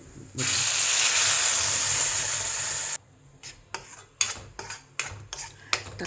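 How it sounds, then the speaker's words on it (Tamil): Tomatoes for tomato sambar hit hot oil in a pan with a loud, steady sizzling hiss for several seconds, followed by a run of sharp metallic scrapes and clinks of a spoon stirring against the pot. "தக்காளி ஒரு 3-4 நிமிஷம் நல்லாவே எண்ணெயில் வதங்கட்டும்"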